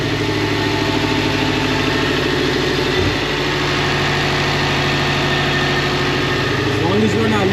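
A Subaru STi engine idles with a steady, loud, low rumble throughout, its uneven pulsing pointing to a misfire, with a brief voice near the end.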